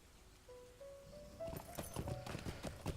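Hoofbeats of a horse in the Lord of the Rings Online game, a steady clip-clop that grows louder midway, with a faint tonal game sound before it.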